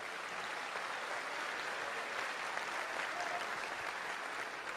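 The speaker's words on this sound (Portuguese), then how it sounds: "vamos aplaudir ao Senhor por esse servo de Deus" A congregation applauding during a church sermon, a steady, even wash of clapping that holds at a constant moderate level, heard from a distance throughout.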